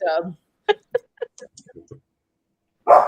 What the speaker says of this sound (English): That's all my dogs are going to speak now.